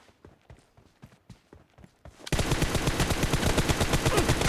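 Rapid gunfire in the mobile battle-royale game PUBG Mobile: a faint, evenly spaced string of distant shots, then a sudden loud burst of rapid automatic fire that continues densely to the end.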